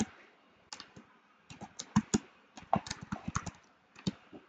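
Keys on a computer keyboard are tapped in quiet, uneven bursts of close clicks, some quick runs and some single strokes, with no talk.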